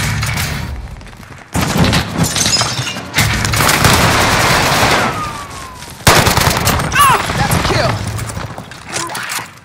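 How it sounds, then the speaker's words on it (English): A precision airstrike in Call of Duty: Warzone on Rebirth Island, loud booming blasts and rattling fusillades with debris, interspersed with game voice callouts. "Enemy precision airstrike."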